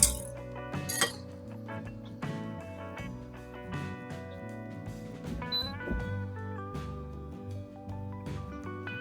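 A spoon clinks repeatedly against a pot while stirring egg drop soup, bright metallic taps ringing out at an uneven pace, close and clear with no talking.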